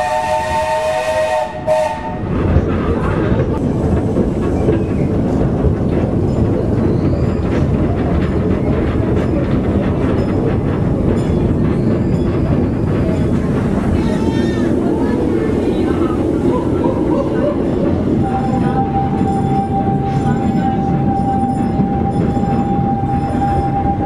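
A train rumbles steadily along a 6-kilometre railway, loud and close, with continuous wheel and rail noise, squealing and a sustained whistle-like tone later on.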